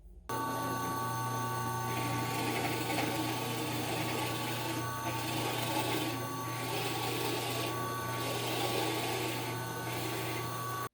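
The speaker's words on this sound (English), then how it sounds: "I'm going to need to have to drill some holes for that purpose." A steady, loud drone of a power drill boring holes through wood with Forstner bits runs without pause for the whole stretch, with faint rising and falling grinding beneath.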